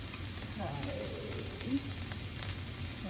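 Chopped onions sizzle steadily in a pan over medium heat, a soft continuous frying hiss at close range with faint stirring scrapes and no talk.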